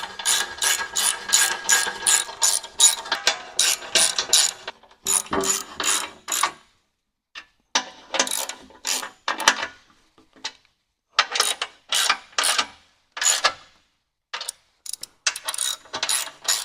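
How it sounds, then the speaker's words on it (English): A ratchet with a 15mm socket tightens skid plate bolts on a 2019–2024 Ram 1500 DT. It gives close, loud bursts of rapid clicking, separated by short pauses as the handle resets. "the only tool you need for this installation is a 15mm socket to tighten it down"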